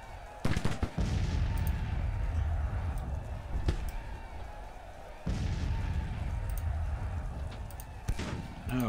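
Musket volleys crack out in the Civil War strategy game Grand Tactician Civil War, several sharp bursts spaced a few seconds apart over a constant low battle rumble, with some talk.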